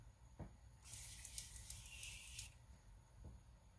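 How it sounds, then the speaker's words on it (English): A single soft spray burst from a Tarte Maracuja Miracle Mist facial mist bottle, a fine hiss lasting about a second and a half, faint and close in a quiet room. "I don't feel like I'm getting anything on my face when I spray it."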